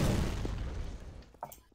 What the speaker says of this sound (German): die ist explodiert.